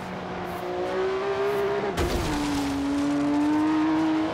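A Lycan hypercar in Forza Horizon 3 accelerates hard, its engine tone climbing, a sharp gear-shift burst in the middle, then a steady loud rising whine pulling away, with no talking.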